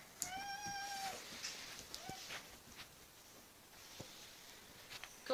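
A house cat meows several times near the start, a clear rising-and-falling cry, followed by soft footsteps and light rustling on a dog bed indoors, with quiet background and a few faint bumps.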